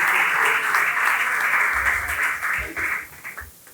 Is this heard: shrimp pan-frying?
no